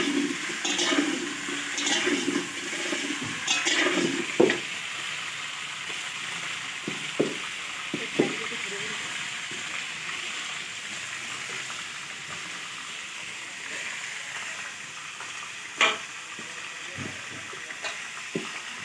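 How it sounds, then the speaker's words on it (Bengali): Potatoes frying in a large wok ahead of cooking meat, a steady sizzling hiss throughout with occasional sharper crackles and pops, close and moderately loud, no talking. "আলুটা আগে ভেজে নিচ্ছি।"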